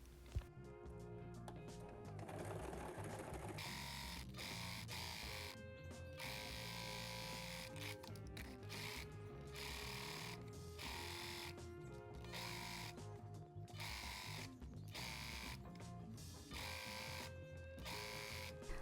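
A sewing machine top stitches a folded double hem on a halter top, its fast steady mechanical whir running loud and close through the whole stretch, broken by a few brief pauses and restarts.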